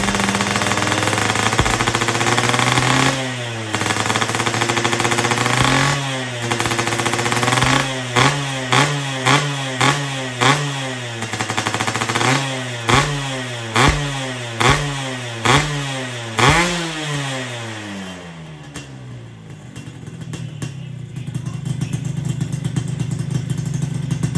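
A restored Suzuki Satria motorcycle engine running close by, rapping and revving in a long series of sharp throttle blips that rise and fall, over a buzzy, rattling idle.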